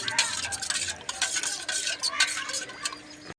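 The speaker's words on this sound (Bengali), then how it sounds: "দিয়ে ভালো করে মিশিয়ে নেব" A spoon stirs spiced sour water with gondhoraj lemon leaves, chopped coriander, black salt and roasted spices in a vessel, sounding as close, repeated scraping and clinking strokes at an uneven rhythm before stopping abruptly.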